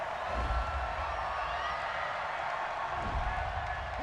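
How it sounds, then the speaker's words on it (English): A football stadium crowd at a Packers-Vikings game rumbles with loud, sustained disapproval after a penalty flag, a dense distant roar with a swell near the end. "Well, the crowd doesn't like that."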